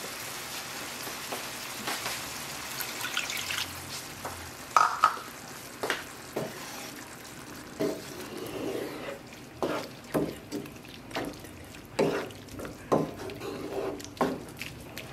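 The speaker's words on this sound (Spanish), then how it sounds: "ya está hirviendo esta comida" Soft bubbling and sizzling from a pot of ground meat with mushrooms and a cup of water simmering on the stove, punctuated by a steady series of small pops and clicks; quiet, with no voices.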